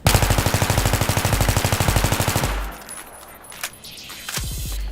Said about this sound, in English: This is full auto fire without controlling the recoil.